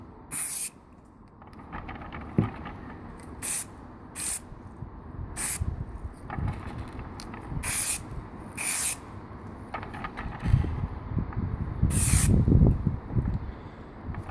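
A spray can coats a model locomotive kit in repeated short hissing bursts of varying length, close by, with handling and rustling between them.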